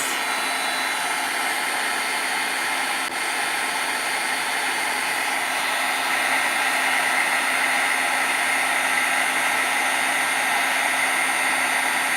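A heat gun blows steadily and loudly over ink pad colors on a craft project, a continuous even whirring rush with no pauses or voices.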